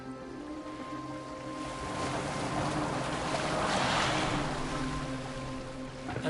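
Boat moving over open water, a steady wash and rush that swells in the middle and eases again, moderately close with no talk.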